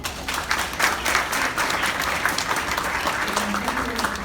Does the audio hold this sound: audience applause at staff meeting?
yes